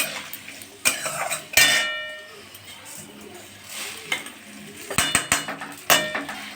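Dried rice is tipped into a pot for pulao and stirred, giving sharp metallic clanks and scraping knocks of utensil against pot, with brief quieter rustling between.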